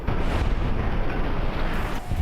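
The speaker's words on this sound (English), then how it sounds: "That was quite the explosion." Loud, sustained rumbling blast in Fallout New Vegas during the Lonesome Road DLC, a dense broadband roar that holds steady for a couple of seconds with a deep low-end boom, no voices over it.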